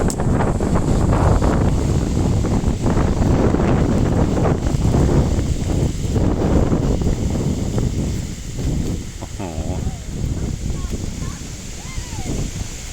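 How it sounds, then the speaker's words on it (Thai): Strong gusty wind from an arriving storm roars steadily against the microphone with loud rumbling buffets, easing slightly toward the end, while someone talks intermittently over it. "แรงมากแล้วครับผมลมจะไหวไหมเนี่ย"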